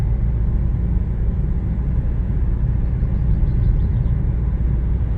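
A car being driven under light throttle produces a steady, close, low cabin rumble with a constant engine drone and no distinct breaks, and no voices are present.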